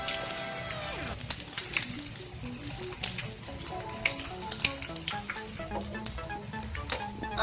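Bread slices dipped in an egg and onion mix fry in hot oil for French toast, a continuous crackling sizzle heard beneath a light, tinkling melody.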